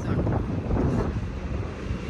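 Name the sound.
wind blowing outdoors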